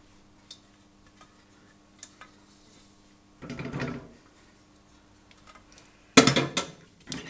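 Cooked pasta stirred into cheese sauce in a pan for mac and cheese, giving two short bursts of scraping and clattering against quiet near-silence and a few faint ticks.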